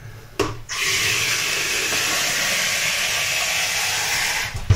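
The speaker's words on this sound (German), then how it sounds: "vergesse ich nicht, Wasser reinzumachen" Water pours steadily into a device's tank, a continuous rushing hiss that starts abruptly and holds for about four seconds before cutting off, close and fairly loud with no talking.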